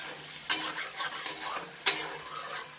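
A spoon scrapes through vegetable chaat in a wok after a splash of water is added: two sharp metallic scrapes stand out over softer clinks and a low background hiss, fairly faint and without talk.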